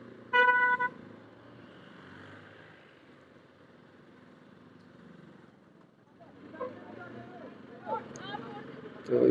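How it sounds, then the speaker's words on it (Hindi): Traffic jam on a hill road near Subhash Chowk: a loud car horn toots at the start, a soft engine murmur carries on through a lull, and more horns and traffic noise build toward the end, with people talking. "तो गाइस आज यहाँ पे काफ़ी ट्रैफिक जाम है"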